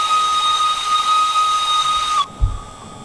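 A steam shunter locomotive in Derail Valley blows a long, steady, shrill whistle for about two seconds that cuts off abruptly, followed by a hiss of steam and a low thump.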